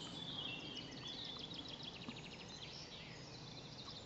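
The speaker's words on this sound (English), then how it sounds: "there's a garden warbler singing" A garden warbler sings at Westbere Lake, a rapid warbling stream of high chirps, fairly faint and distant over steady outdoor background noise.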